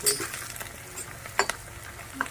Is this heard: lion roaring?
no